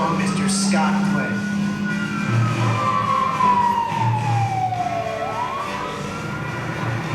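A fire engine siren wails with a long falling sweep at a Universal Studios Hollywood Backdraft fire show, loud and close, mixed with crowd and announcer talk.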